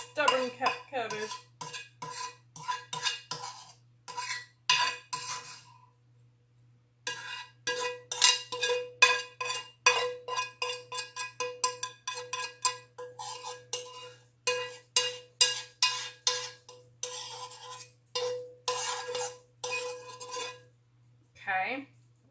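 Metal utensil scraping stubborn cabbage from a casserole pan in bursts of clinks and scrapes, close and clear, with short pauses and a low steady hum beneath.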